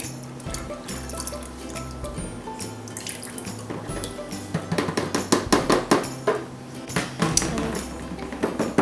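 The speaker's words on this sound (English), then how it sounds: "we're going to pour that into our oils" Liquid for cold process soap is poured into the oils, giving close trickling and splashing sounds that grow into a run of sharp, rhythmic sloshes and drips toward the end, with a faint low hum underneath.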